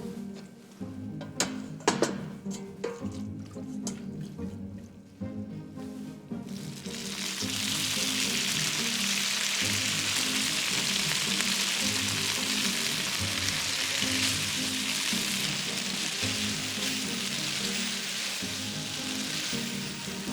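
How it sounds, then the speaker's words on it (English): Pasta sizzles loudly and steadily in rendered guanciale fat in a pan, a dense continuous frying hiss that starts after a few seconds of quieter kitchen clatter. "you want to keep all the fat from the guanciale, and then we're gonna add our pasta in here"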